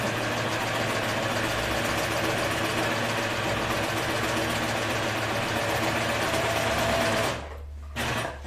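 A sewing machine sews Safran jeans in one loud, steady, continuous run that stops abruptly near the end, with a short burst of mechanical noise after.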